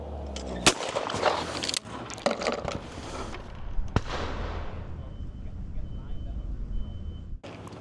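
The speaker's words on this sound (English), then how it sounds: "with the first shot, you know, the gun's still traveling the same speed, but I'm taking more time to come up above the clay" A shotgun fires at a rising teal clay target on a shooting ground, with sharp loud reports near the start and again around four seconds, and outdoor ambience between.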